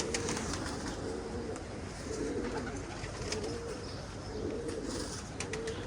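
Iraqi tumbler pigeons cooing on a rooftop, soft repeated low coos in a steady rhythm, several birds close by over a constant outdoor hiss with faint chirps.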